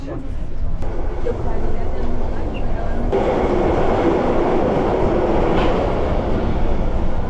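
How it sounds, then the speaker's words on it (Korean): Small, very short underground funicular-style subway train in Türkiye, one of the world's oldest, running a 600 m line; a steady loud rumble and rattle of the car fills the ride, rising after a door-closing thud, with a voice talking over it. "세계에서 두 번째로 오래된 지하철을 타봤습니다"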